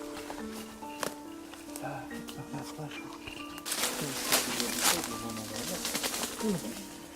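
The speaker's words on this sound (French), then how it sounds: "Oh, les petits oiseaux." Small birds chirp in short scattered bursts outdoors beside an abandoned house, faint and intermittent at first, then busier amid rustling and footsteps, with people talking quietly throughout.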